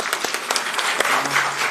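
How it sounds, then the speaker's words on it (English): Audience applause at a live talk as a guest is welcomed to the stage, a short burst of dense clapping in a room. "Can we have a round of applause,"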